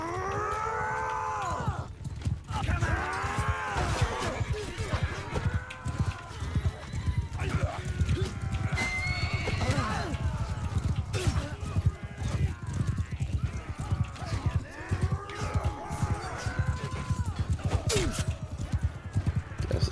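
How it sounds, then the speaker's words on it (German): Horse hooves clip-clop steadily in the medieval combat game Mount & Blade II: Bannerlord, with several whinnies and neighs rising over them and a busy game soundscape around them. "Hier ist ein neues Pferd."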